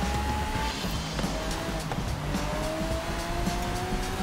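A gold Dubai-edition Lamborghini Aventador drives in Forza Horizon 5, its engine a steady, loud roar with slowly rising pitch, mixed with intermittent tire squeal and skidding.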